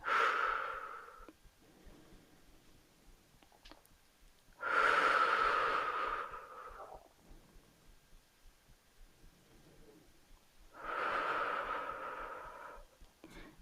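Slow, deep breaths during a beginner leg-toning exercise, three long airy exhalations spaced several seconds apart with quieter inhalations between, close to the microphone and without voices.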